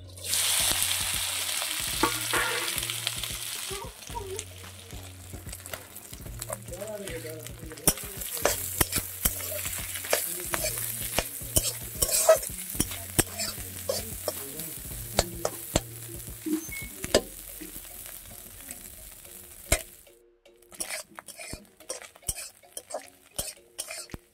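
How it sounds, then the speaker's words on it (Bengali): Small chanakhira fish frying lightly in hot oil in a pan, a continuous sizzle with repeated scraping and stirring of a utensil against the metal, ending abruptly before quieter clinks. "চানকিরা মাছগুলো অল্প ভাজা করে নেব হালকা হালকা।"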